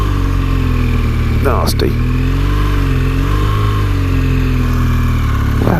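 A BMW R1200GS motorcycle engine labours in first gear up a steep hairpin, a loud steady low drone with slowly shifting pitch, under wind noise and a brief spoken word from the rider.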